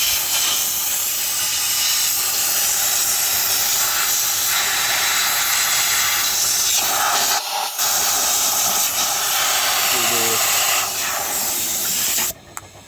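Compressed-air blower blasting dust off the hot engine of a combine harvester during a daily pre-work check, a loud, continuous, close rushing hiss that briefly cuts out, then resumes and ends abruptly.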